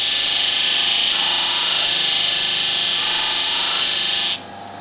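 A knife part being ground on a sanding machine with abrasive paper, a loud steady whirring grind that holds for over four seconds before abruptly dropping away as the piece is lifted.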